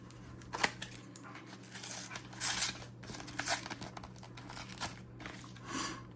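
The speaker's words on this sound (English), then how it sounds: "Let me bust out the scissors for this one." Scissors snipping through packaging during a mail unboxing, with repeated crisp cuts interleaved with crinkling and tearing of plastic and paper, close up and fairly quiet.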